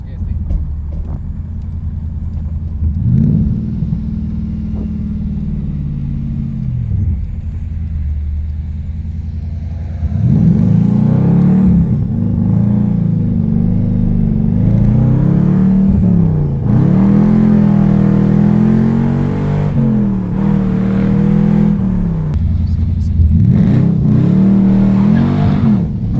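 A Ford Capri swapped to a Mercedes M113 5-litre V8 pulls hard through its gears, engine note climbing and dropping in repeated rapid shifts, loud from inside the car, with people talking over it.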